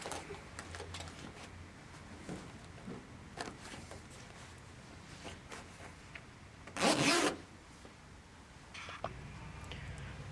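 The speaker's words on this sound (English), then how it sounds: "Zipper back up." A single quick zipper pull closes the fabric seat cover of an Osaki OS-3D Pro Cyber 2 massage chair, loud and close, amid quiet rustling and handling noises.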